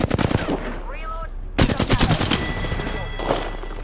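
Rapid bursts of automatic gunfire in a squad-based shooter video game, loud and close, with a lull in the middle before another heavy volley, and game voices calling out between shots.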